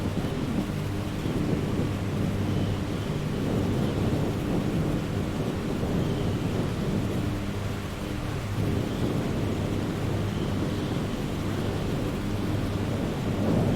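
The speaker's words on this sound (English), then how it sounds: "It looks like a little bit of rain conditions and wind." Steady rain and gusting wind in a flight simulator storm, heard from a Cessna 310R twin cockpit, with a constant low roar and wash of rainfall and rumbling thunder-like swells filling the whole stretch without talk.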